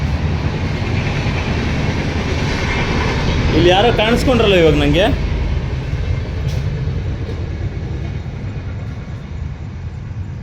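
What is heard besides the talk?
passing train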